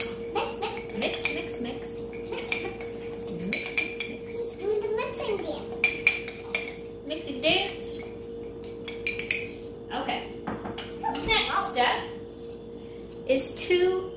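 A spoon clinks and scrapes around inside a mug while three dry ingredients for a gluten-free cinnamon roll are mixed, repeated metallic taps and chinks under a steady hum, with a voice and a child's chatter at times.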